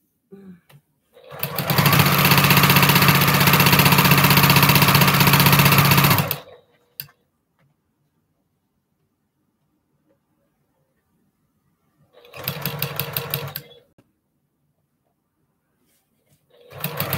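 Sewing machine stitching a patriotic postage stamp quilt top made from small strips, running in one long steady burst of about five seconds, then a short second run after a quiet pause; close and loud, with no talking.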